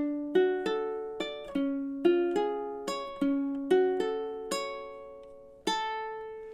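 A ukulele plucks the first two measures of a song, about a dozen clear, evenly paced notes close up, each ringing and decaying before the next, with a longer final note.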